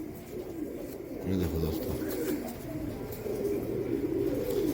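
Teddy pigeons coo in low, throaty bursts over a steady background hum, while someone speaks briefly.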